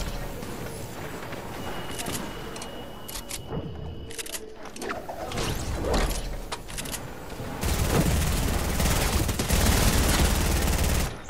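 Sniper rifle shots ring out in Fortnite, a few sharp reports scattered through a dense battle soundscape of other gunfire and effects, with a louder, busier stretch toward the end.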